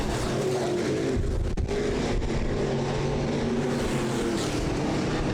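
Race cars roaring through a weekly series heat race on a short track, a loud continuous engine drone with layered motors and a brief dip midway, close and steady throughout.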